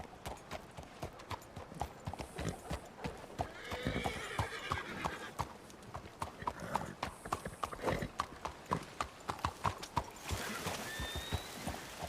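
A horse walking with steady, rhythmic clip-clop hoofbeats, broken by a couple of high whinnies partway through. The sound is fairly quiet and close, with little else around it.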